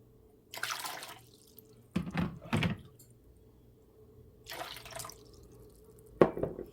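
Water pours out in several short bursts with quiet pauses between them, as it is added to a vinegar brine for pickled garlic made with apple vinegar.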